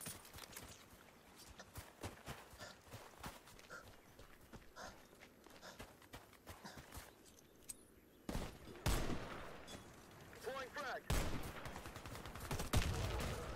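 Burst-fire weapon in a video game, scattered sharp gunshot cracks and clusters of bursts amid busy game noise, growing louder and denser in the second half with several strong close volleys.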